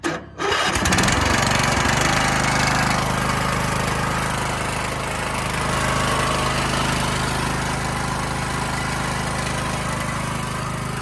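A Troy-Bilt lawn tractor's Briggs and Stratton engine catches with a brief starting rattle, then runs at a steady, loud, even idle up close for the rest of the clip.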